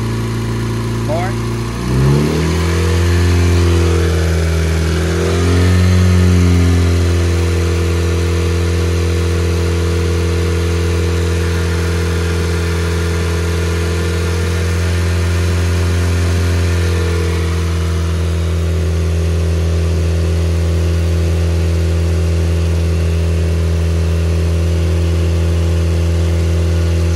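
Engine of a turbocharged 8th-generation Honda Civic with a custom intake revs up briefly, its steady drone rising in pitch before settling back to a loud, constant idle-like hum.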